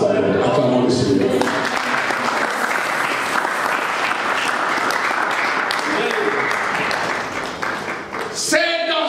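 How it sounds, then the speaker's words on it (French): A church congregation bursts into sustained, loud applause that swells and holds, mixed with crowd voices, before tapering off near the end as a voice returns. "Acclamons le Seigneur."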